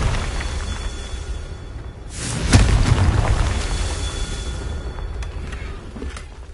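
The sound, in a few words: Confringo explosion spell in a Hogwarts video game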